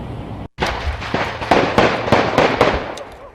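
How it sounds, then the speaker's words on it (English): Rapid sharp gunshots on the Boise bench in an irregular burst, roughly a dozen loud cracks over a few seconds, nearby and reverberant. "Gunfire on the Boise bench."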